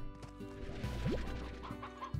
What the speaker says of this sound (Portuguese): Nasceram galinha.